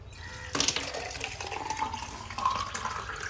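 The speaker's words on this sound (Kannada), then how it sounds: "ನೋಡಿ, ಈಗ ನೀರು ಫಿಲ್ ಮಾಡೋಣ." Water from a tap pours steadily into a plastic bottle for a home drip irrigation setup, starting with a splashy burst and then a continuous close, moderate gush with a slowly shifting pitch as it fills.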